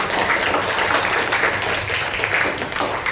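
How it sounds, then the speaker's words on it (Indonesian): A classroom group of students claps together, a brief burst of close, fairly loud applause with no talking. "tepuk tangan ini semuanya"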